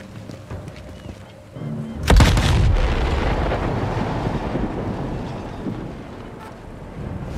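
Massive V2 rocket launch blast in the World War II shooter Sniper Elite 5, a sudden loud boom at about two seconds followed by a long roaring, rumbling wash that slowly fades over several seconds.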